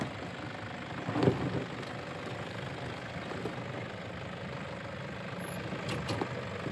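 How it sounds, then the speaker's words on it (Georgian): A diesel engine rattles and rumbles in a steady, low drone throughout, with no voices and only a slight bump in loudness early on. "დიზელის რაკარუკის ხმა ისმის."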